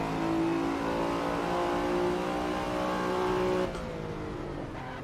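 Car engine revving in an F1 racing video game, a loud continuous high-pitched whine with steady harmonics that drops abruptly in level near the end as the car goes through a tunnel.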